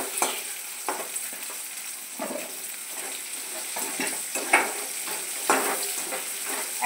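Chilli soybean chunks fry over a high flame in a wok, giving a continuous sizzle broken by repeated scraping stirs of a spatula against the metal every second or so, close up and with no talking.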